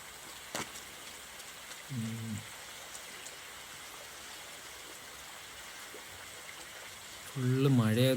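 Heavy rain pours down steadily over muddy ground, a constant loud hiss filling the scene, with short bursts of voices breaking in near the start and at the end.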